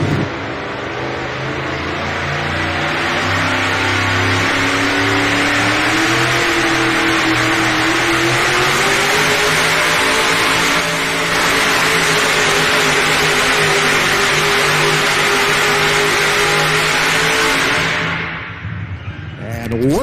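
A pulling tractor's engine roars loud and sustained as it works down the track at a truck and tractor pulling event in Shelbyville, Tennessee, its pitch wavering then dropping away near the end.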